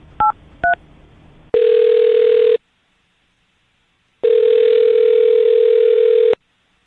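Two short telephone keypad dialing beeps are followed by a steady dial tone, then a silence, then a second, longer tone. The sounds are loud and clean, with no voices.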